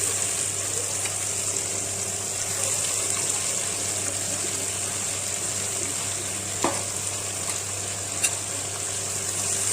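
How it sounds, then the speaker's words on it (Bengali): Chopped onion, ginger-garlic paste and tomato hit hot oil and sugar in a pan while cooking a country chicken curry, giving a loud, continuous hiss with a couple of faint clinks near the end. "চিনিটা একটু ফুটে গেলে তাতে আমি দিয়ে দেবো পেঁয়াজ কুচি, আদা রসুন বাটা, টমেটো"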